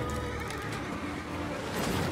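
Horse in the Lords of the Fallen video game lets out a loud whinny over a busy, dense game soundscape, with a faint clip-clop of hooves.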